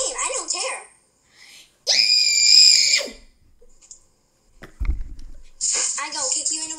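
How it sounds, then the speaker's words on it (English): A voice in a roleplay lets out a high, sustained shrill scream, set between stretches of excited child speech and brief silences. "I'm going to scream and wake up your mommy"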